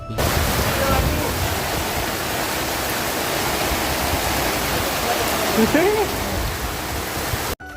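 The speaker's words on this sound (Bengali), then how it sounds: "তারপরে খেয়ে দিয়ে বেরিয়ে দেখছি আবারও বৃষ্টি এসে গেছে।" Steady rain falls in a dense, continuous hiss throughout, loud and close, with a brief faint tonal sound midway and no talk.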